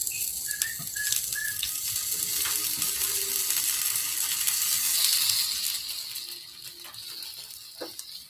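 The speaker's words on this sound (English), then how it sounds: "It's the sizzle, the sizzle, the sizzle." Food fries in a hot pan with a steady, close sizzling hiss that swells and eases, and a few faint whistle-like tones are heard early on, with no talking.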